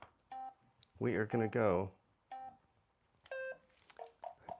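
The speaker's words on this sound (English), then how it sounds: "I'm gonna reset the timer, and we're gonna go." A game timer on a Kanoodle puzzle brainteaser being reset, giving short electronic beep tones spread across the moment, with a person speaking between them.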